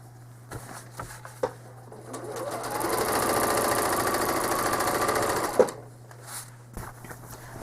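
A home sewing machine stitches a cherry-bowl quilt in one steady run of rapid needle hum lasting a few seconds, framed by soft handling clicks and fabric shifting before and after, close and fairly quiet.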